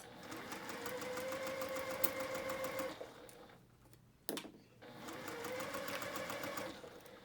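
A sewing machine stitching a girl's fabric headband, running in two steady whirring bursts of about three seconds each, separated by a pause filled with a short click and brief handling noise, close and clear.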